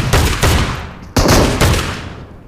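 A video-game shotgun fires four heavy, loud blasts in an uneven rhythm, and each boom trails off in a long, rumbling decay before the next shot.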